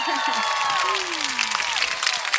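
A crowd applauds the award winners of a pickleball league, a steady, even patter of many hands clapping that fills the whole moment, with a brief voice near the start.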